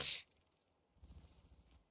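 Paimon, a character in the video game Genshin Impact, gives one short, sharp sneeze at the start. Quiet low rumbling background sound follows it.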